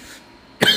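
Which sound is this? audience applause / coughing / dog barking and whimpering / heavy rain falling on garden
coughing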